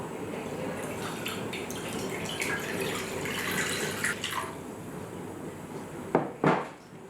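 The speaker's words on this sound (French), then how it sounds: "Ensuite, versez de l'eau froide dans une poêle." Cold water pours and splashes into a frying pan in a close, steady rush, ending in a couple of sharp clanks of the pan.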